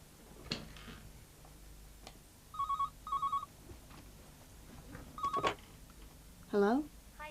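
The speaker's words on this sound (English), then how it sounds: "don't be too long on that phone" A telephone rings in short electronic double bursts at home, two quick pairs followed by a single burst, with a rising chirp at the end and faint background noise between rings.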